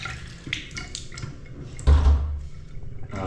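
Water runs from a tap into a newly finished bathroom, a steady, fairly weak splashing flow close by, with a brief louder gush midway.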